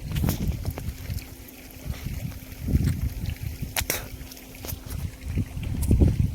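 Strong wind blowing outdoors, low rumbling gusts buffeting the microphone in uneven surges, with a faint steady hum running underneath and no voices.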